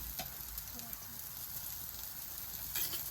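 Oil sizzling and frying steadily in an appe pan while appe cook, a faint continuous crackling hiss heard up close at low volume.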